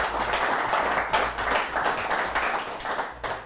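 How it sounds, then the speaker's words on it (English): A studio audience applauds in-studio guests from the Johannesburg chapter of the Young Presidents Organization, with dense, close clapping from a small crowd that holds steady for a few seconds and then tapers off. "A round of applause to our in-studio guests from the Johannesburg chapter of the Young Presidents Organization."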